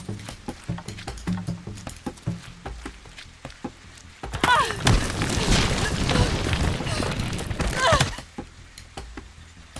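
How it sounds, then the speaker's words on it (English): Loud stretch of gunshots and crashing impacts in The Walking Dead: 400 Days, chaotic and sustained for several seconds after scattered clicks and thuds, under a talking voice. "They shoot bullets."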